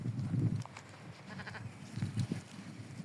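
Sheep weighing 60 to 70 kilos bleat faintly in an open field, with a few soft, low calls rising over quiet outdoor ambience.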